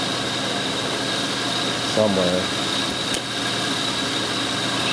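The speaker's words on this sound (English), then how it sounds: "the engine seems to be running well" A Toyota/Lexus 3-liter VVT car engine idles with a steady hum underneath, with a single brief spoken word partway through.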